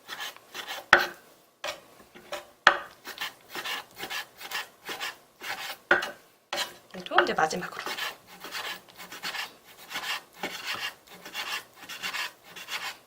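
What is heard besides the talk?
knife slicing beef on a cutting board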